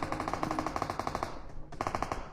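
Rapid automatic gunfire from the video game PUBG rattles in fast bursts, broken by a short pause before the shooting resumes, with no talking.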